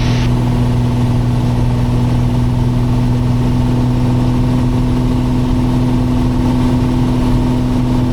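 A Piper Cherokee Six piston aircraft engine drones steadily at cruise power, a loud constant hum with a strong low tone and no change in rhythm, heard from inside the cabin with no talking.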